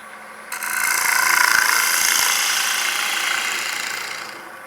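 Wood lathe spinning as a gouge turns a bowl, a steady bright whirring cut that swells in and holds, then eases slightly toward the end with no talking.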